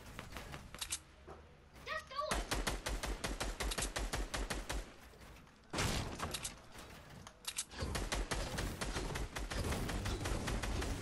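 Rapid gunfire in the game Fortnite, with long bursts of sharp, quick shots rattling almost continuously, stopping briefly, then firing again at close range.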